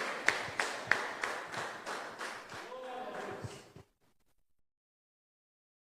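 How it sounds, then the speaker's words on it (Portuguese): Church congregation at a Holy Communion service clapping in a steady, loud rhythm of about a dozen beats, with voices and a bit of singing mixed in, stopping abruptly into silence. "Uma salva de palmas para Jesus"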